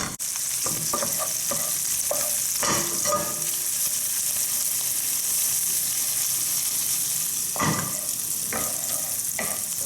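Sautéing in a pan for bucatini all'amatriciana makes a steady, bright sizzle close up, broken by occasional clattering scrapes and taps as the food is stirred, with no voices.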